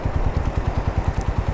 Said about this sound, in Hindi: ये मेरा बाइक स्टार्ट है इसकी आवाज़ आपको सुनाई दे रही होगी